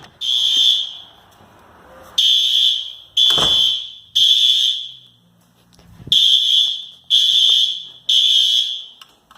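A newly installed fire alarm under test sounds in loud, piercing bursts of about a second each, separated by short pauses, with a few thumps and faint background noise in the gaps.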